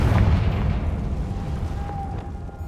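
A Confringo blasting spell explodes in the Hogwarts Legacy video game: one loud, close, low boom that rumbles and slowly fades over a couple of seconds, with a faint thin tone ringing out near the end.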